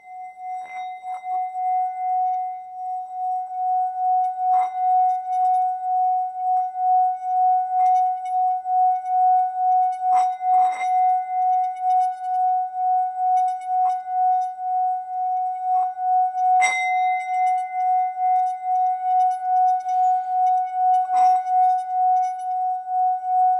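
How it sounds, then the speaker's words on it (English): A high-toned sound bowl rings out in a steady, sustained hum, with a few soft metallic clinks from strikes along the way. It is clear and close, with no voices. "you can hear the high tone in this"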